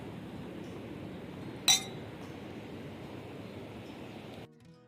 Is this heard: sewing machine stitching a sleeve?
no